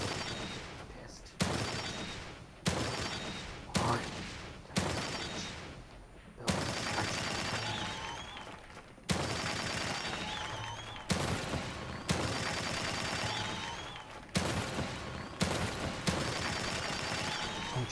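Repeated gunshots ring out at a shooting gallery in the video game The Evil Within 2, a dozen or so sharp cracks in an irregular rhythm, each followed by a short decaying tail, loud and close.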